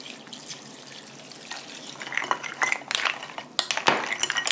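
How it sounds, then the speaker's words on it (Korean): Water pours into a bowl of ice for a chilled seaweed and cucumber soup, a trickling, splashing stream with light clinks of ice growing louder toward the end, nearby and alone. "그런 다음에 이제 물을 부세요"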